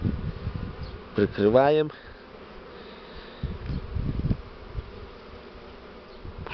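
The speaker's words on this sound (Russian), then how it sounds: "Даже сами пчелы подлетают, да ищут их возле паутины" Honey bees hum steadily around a hive split, a constant low buzz running under the whole stretch, with a short burst of a voice near the start.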